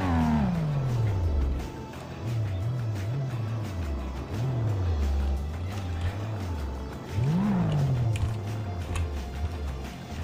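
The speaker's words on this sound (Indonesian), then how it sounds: "Gue kayak agak dengar suara mobil nih tadi nih" A car engine in the video game GTA revs repeatedly, its pitch rising and falling in several surges, with one sharp climb near the end; no voices.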